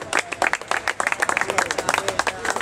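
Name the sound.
applause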